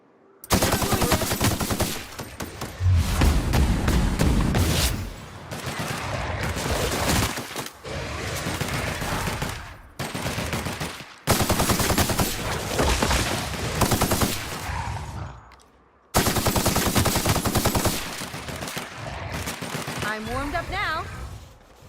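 Sustained automatic gunfire from The Outer Worlds runs in long, dense bursts split by brief pauses, loud and close, with a companion's upgraded weapon joining the firefight and a voice talking intermittently over the shooting.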